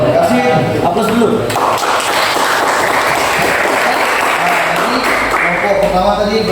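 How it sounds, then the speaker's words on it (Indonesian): A group breaks into loud, sustained applause after a presentation, dense clapping from close by that lasts throughout, with voices talking over it. "Aplaus dulu."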